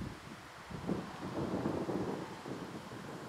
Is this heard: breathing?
no